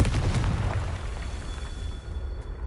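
A Confringo fire spell bursts in Hogwarts Legacy on PS5, a dense low rumbling blast that rolls on and slowly fades over a steady crackling wash.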